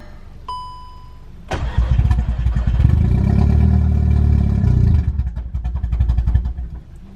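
A built VW MK6 Golf R cranks briefly after a chime, then fires and settles into a loud, rough idle that rises, dips and stumbles unevenly, heard up close.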